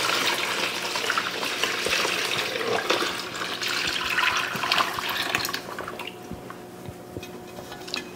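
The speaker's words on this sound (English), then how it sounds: "let's dump this brine right into this basket here" Brine is poured from a pot into a basket, a loud splashing, gushing stream for several seconds that thins to trickles and drips as the pour ends.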